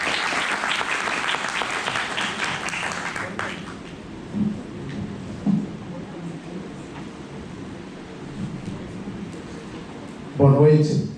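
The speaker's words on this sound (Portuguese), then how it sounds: "Uma salva de palmas." Audience applause after a speaker is introduced at a talk on liberalism in Brazil, clapping loudest at the start, then thinning to scattered claps, with a voice coming in at the end.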